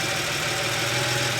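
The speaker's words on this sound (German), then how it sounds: "Der Motor ist mittlerweile warm gelaufen und die Drehzahl schwankt um 800 Umdrehungen pro Minute." A warm Porsche 911 G-Model 3.2 Carrera flat-six idles at around 800 rpm, a steady, even mechanical hum with a faint rhythmic pulse, close and constant without any voices.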